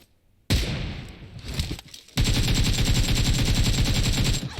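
Rapid automatic gunfire in the PUBG Mobile battle royale game, a loud sustained burst after a short silence, then a brief lull and a second, denser stream of shots.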